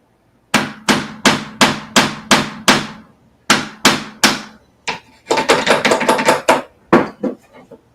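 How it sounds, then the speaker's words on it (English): A big fencing hammer drives little tacks into wood, landing a rapid series of sharp, close, loud strikes in quick rhythmic bursts with short pauses between groups. "I'm using a big old fire hammer or a big fencing hammer to drive these little bitty tacks"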